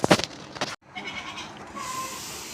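Goats in a livestock shed on a Sikkim farm give a couple of short, loud nearby bleats, followed by a quieter stretch of background rustle with a faint thin tone.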